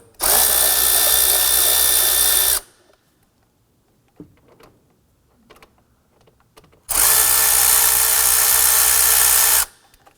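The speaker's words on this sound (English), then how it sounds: "We're going to use our 7mm socket." Two bursts of a cordless power tool running a 7mm socket on the intake tube clamps of a 2015-2020 Ford F-150, each a steady loud whir of about two seconds, separated by faint clicks and handling noises.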